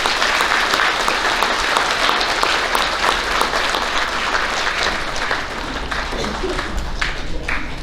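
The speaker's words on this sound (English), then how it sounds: "Let's give them a round of applause, please" Audience applause for fourth grade UIL competitors at an elementary school awards ceremony, a dense, steady wash of many hands clapping at close range that runs throughout and thins slightly near the end.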